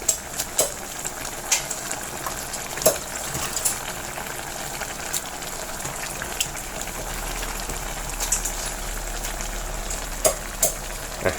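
Steady oil sizzle from a hot wok stir-frying spicy eel as chopped scallions go in, with scattered sharp clacks of a utensil against the wok throughout. No voices.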